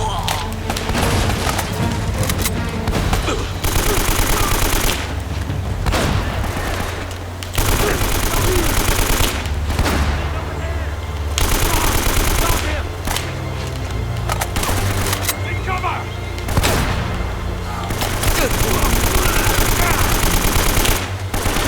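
Gunfire in Uncharted: Drake's Fortune: loud, sustained automatic bursts with brief pauses between volleys, plus impacts and splintering wood, under game music and occasional talk.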